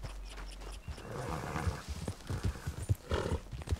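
Horse hooves clip-clopping in Red Dead Redemption II, a steady walking rhythm of close, distinct hoof strikes over a low ambient rumble, with no talking.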